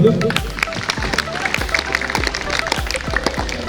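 Students at a green-future talk in Bobas village clap along in a rhythmic series of sharp, fairly loud claps with an irregular beat, and a voice is heard briefly at the start.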